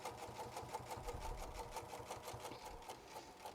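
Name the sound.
sewing machine stitching a purse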